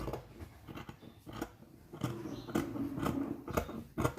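Scissors snip through two layers of school uniform fabric in a few crisp, separate curving cuts close by, with quiet rustling of fabric between them.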